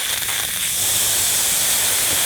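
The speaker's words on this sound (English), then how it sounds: "First we'll be testing the Underhill low flow full throttle nozzle." Steady, loud hiss of water jetting from an Underhill low flow full throttle fire hose nozzle at about 80 psi, opened up to full distance, a continuous broadband rush running unbroken throughout with no voices.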